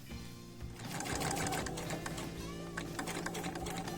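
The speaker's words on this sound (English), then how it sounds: "I leave this loose like this, and I begin sewing" A sewing machine runs steadily while stitching a quilt binding, a continuous close mechanical whir with rapid needle clatter, fairly quiet, with no voices.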